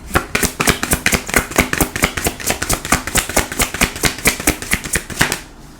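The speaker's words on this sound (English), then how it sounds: "Sorry, the shuffling is bad." Tarot cards are shuffled by hand, with a fast, even run of soft slapping and riffling strokes close by that keeps going for about five seconds and then stops abruptly.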